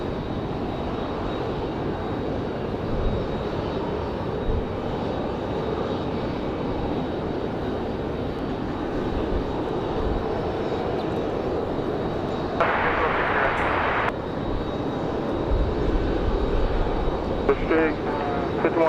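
A United Express passenger airplane at Raleigh-Durham International Airport gives a steady, moderately loud engine roar that holds throughout, with a voice talking over it and a brief band of extra noise near the end.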